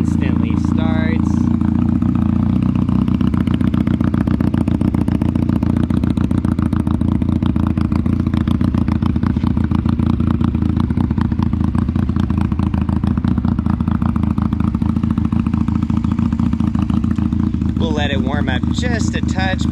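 A Honda Rebel 250 parallel twin motorcycle engine idles loud and close with a steady low throbbing rumble throughout, while someone talks over it.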